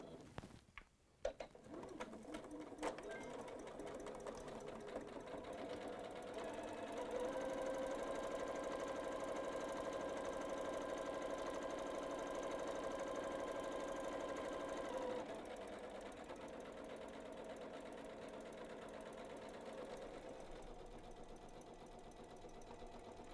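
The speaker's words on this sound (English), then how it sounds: "We're going to sew all the way around the stocking with a 1/2 inch seam allowance." A Janome sewing machine stitches a stocking seam with a steady, close mechanical hum and whir that runs without pause, growing louder through the middle stretch before settling back.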